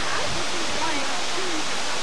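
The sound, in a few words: waterfalls at Ingleton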